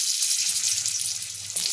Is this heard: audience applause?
no